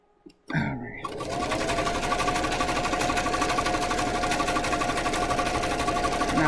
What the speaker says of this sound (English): if I move it to zigzag itself, then it will give me the real zigzag stitch